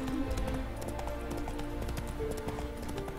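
Hooves of the horse Roach in The Witcher 3 clip-clopping in a quick steady rhythm close by, with a faint snort and soft background game ambience, no clear speech.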